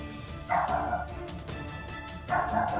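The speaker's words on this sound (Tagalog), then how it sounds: "Mag-iingat ka sa mga aso. Mga askal yan." Thin stray askal dogs bark in two short loud bursts, one early and one near the end, close by over a steady background hum, with no voices.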